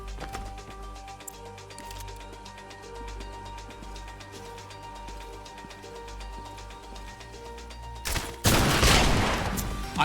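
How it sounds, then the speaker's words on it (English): Shotgun blasts from the video game Intravenous 2 break in suddenly and loudly near the end, cutting through a steady droning game soundtrack that fills most of the clip. "That's a shotgun he has."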